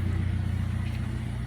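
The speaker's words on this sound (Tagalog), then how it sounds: "Nagpapainit na rin tayo ng sasakyan." A parked car's engine idles while warming up in the morning, a steady low rumble with a faint regular pulse running unbroken and fairly close throughout.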